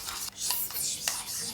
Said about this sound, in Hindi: अब इसको हम लोग बहुत तेज वाला स्टर करने वाले हैं।